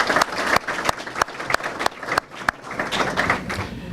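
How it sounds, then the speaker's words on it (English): Audience at a village State of the Village event applauding sponsors, with sustained crowd clapping and several sharp, loud individual claps standing out close by. "Give them a round warm applause, please, for their extra support to the Chamber"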